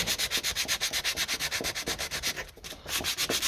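Sandpaper rubs rapidly back and forth over a metal part from a 1957 Ferguson 20 TEF diesel pump, a steady close rasping rhythm of quick strokes with a brief pause near the end.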